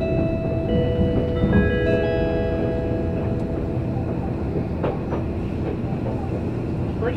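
An Odakyu Enoshima express train rumbles steadily along the rails after Fujisawa toward Katase-Enoshima, a continuous loud roar with faint clatter and high squealing tones from the wheels.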